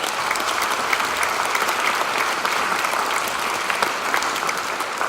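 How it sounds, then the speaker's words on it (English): Sustained audience applause at a school symphonic band concert, a steady dense wash of many hands clapping for about five seconds at even loudness. "I think that's worth a round of applause."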